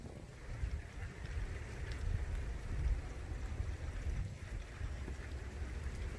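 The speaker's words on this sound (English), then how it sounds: "Wind's starting to pick up now." Wind gusting ahead of a non-severe thunderstorm, a steady low rumbling roar that swells and eases over a constant broadband hiss, with no voices.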